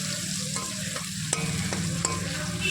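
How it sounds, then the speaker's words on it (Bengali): Medium-sized onion paste stirred in a frying pan: a steady sizzle runs throughout, broken by a few sharp scrapes of the spoon against the pan, close and alone with no voices. "হালকা হাতে একটু পেঁয়াজটাকে নাড়াচাড়া করে নেব।"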